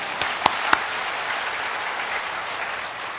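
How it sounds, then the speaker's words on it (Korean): Congregation applause during a church testimony service, a steady wash of clapping from a crowd with a few sharper, closer claps near the start, moderately loud throughout. "하나님께 영광의 박수 올리겠습니다."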